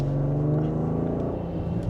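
A BMW X5 with an upgraded engine accelerates from inside the cabin, a steady low engine drone with a clear harmonic hum rising slightly in pitch, fairly loud and continuous with no talking.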